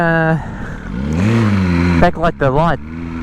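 A BMW M1000R motorcycle engine revs hard on a direct throttle during a night ride, its pitch climbing and falling in steady sweeps, with a voice talking over it near the end.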